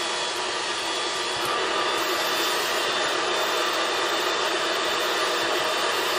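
An Omega Axtrix vacuum fitted with a crack and crevice tool on extension tubing and a clear hose runs at a constant loud whine along floor edges near a dishwasher.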